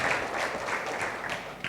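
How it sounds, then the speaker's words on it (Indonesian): A church congregation at a worship service claps together in lively applause, a steady wash of hand claps with a few louder individual claps toward the end. "Berikan tepuk tangan meriah buat Tuhan kita"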